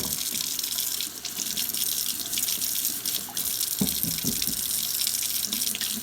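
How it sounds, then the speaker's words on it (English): Carrots being washed under a running kitchen tap in a sink, a steady close stream of water splashing throughout with a few brief knocks and handling sounds. "now we've just washed our carrots"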